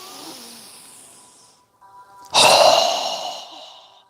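Strong forceful exhale during a yoga breathing exercise, a soft breathy lead-in followed by a loud, close, rushing blast of air that fades over about a second and a half.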